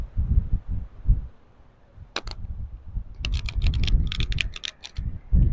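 Playing cards shuffled old-school style by hand, a quick burst of crisp riffling clicks followed by a longer run of rapid, close snapping flutters, with low murmuring underneath.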